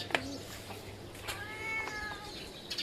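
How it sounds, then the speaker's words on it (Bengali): A pet cat meows near a chicken coop, with a few close, drawn-out mews rising over a quiet background. "মুরগির ঘরে যে ম্যাও ম্যাও শুরু করছো কেন?"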